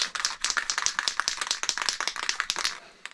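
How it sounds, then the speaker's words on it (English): Rapid, rhythmic rattling of a spray bottle of Hornady One Shot case lube being shaken, a quick steady burst of clicks close by with no talking. "Just shake it up a little bit,"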